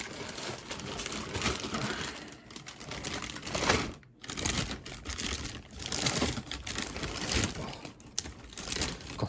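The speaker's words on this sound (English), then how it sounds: "don't you hate the bag? It makes so much noise." A plastic bag from an Airfix HMS Victory model kit crinkling as it is handled, close, busy rustling and crackling with a brief pause midway, fairly quiet overall and with no talk.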